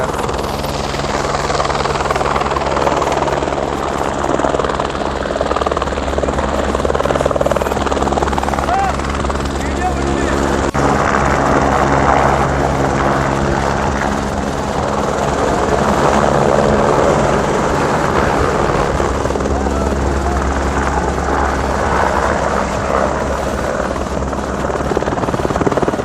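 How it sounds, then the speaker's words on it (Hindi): Helicopter coming in to land near Badrinath, its rotor thump and engine drone steady and loud throughout, with voices faintly underneath. "मैं हेलीकॉप्टर उतरने का भी दिखाने वाला था।"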